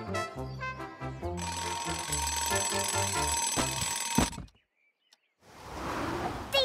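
A cartoon alarm clock rings loudly and steadily with a metallic bell over bouncy music, then stops suddenly into near silence before a burst of noise returns.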